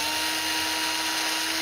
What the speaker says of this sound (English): you just take a 1/16 inch drill